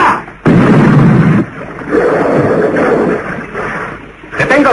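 A gunfight in a Tarzan film, with loud, heavy blasts that roar and rumble across the whole clip, one big burst followed by sustained booming, with shouted voices mixed in.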